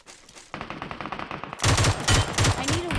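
Rapid automatic gunfire in a video game shooter, dense bursts of shots growing louder and closer, with heavy repeated thumps in the second half.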